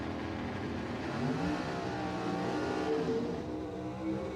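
Drag racing cars in the first round of eliminations for the Ozark Mountain Super Shifters at Cordova Dragway, a faint distant engine roar rising and revving steadily across the few seconds.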